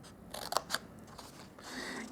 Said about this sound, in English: we're going to cut up with some snips or scissors, whatever you've got